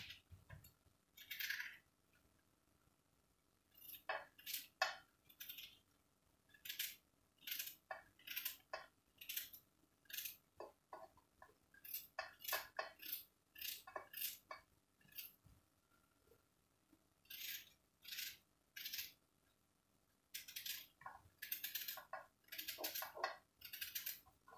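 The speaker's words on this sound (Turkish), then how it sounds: "Şimdi soğanımı doğruyorum." Onion is chopped with a knife on a board, a long series of quiet, crisp taps in irregular bursts with short pauses between runs.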